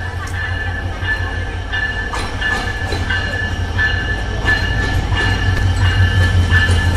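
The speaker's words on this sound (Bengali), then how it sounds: "ঢাকা অভিমুখী দ্রুতযান এক্সপ্রেস লোকোমোটিভ 6635 নিয়ে পার্বতীপুর রেল জংশনে একদম সঠিক সময়ে প্রবেশ করলো" The Dhaka-bound Drutojan Express, hauled by locomotive 6635, rumbles into Parbatipur railway junction with a deep engine drone and rhythmic wheel clatter, a faint high whine over the top, steadily growing louder.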